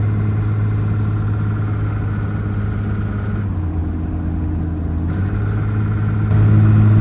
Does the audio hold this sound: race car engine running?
yes